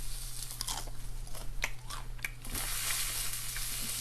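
Crunchy oyster mushroom bacon bitten close to the mouth, giving a few sharp crisp crunches followed by steady chewing, with no talking over it.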